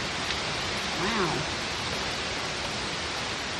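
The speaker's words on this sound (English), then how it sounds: "This is the third rain of the day." Heavy storm rain in Georgia, a steady, dense hiss of downpour at constant strength, with a brief exclamation heard faintly under it.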